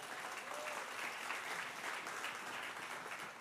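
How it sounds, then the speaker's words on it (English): Members of a midweek church Bible study audience clap for themselves, a continuous, fairly even round of applause from a sizeable indoor crowd, moderately distant and without speech. "Give yourself a round of applause"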